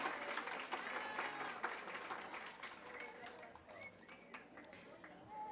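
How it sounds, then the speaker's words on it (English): Light, distant applause from an outdoor crowd at a Hispanic Heritage fiesta in Hoffman Estates, a soft patter of clapping that continues under an announcer's voice. "One more time, round of applause."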